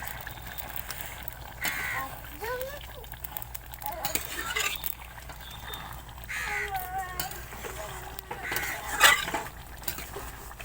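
Garam masala powder being stirred into a potato and soybean curry in a pot, with scattered scraping and clinking of a spoon against metal over a faint simmer, close-up, some quieter sounds in the background.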